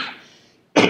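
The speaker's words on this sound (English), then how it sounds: "a cough came in" A single sharp cough bursts out near the end, loud and close, after a brief fading trail of sound and a moment of near silence.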